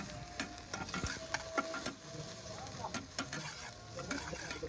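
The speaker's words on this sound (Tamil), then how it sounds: "பாருங்க வெங்காயம் கருவேப்பிலை எல்லாம் போட்டு நல்லா வதக்குறாரு." Beef chukka with onions and curry leaves sautéing in a pan at a biryani shop in Trichy, a soft sizzle under quiet stirring and scraping, with intermittent clicks of the utensil.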